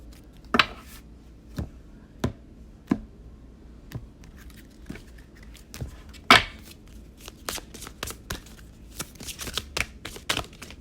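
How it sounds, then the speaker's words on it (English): Tarot cards are handled, tapped and shuffled up close, with sharp scattered clicks and slaps and a brief riffle, followed by a quick run of card snaps near the end over a quiet background. "So I'm going to pull a butterfly card for advice."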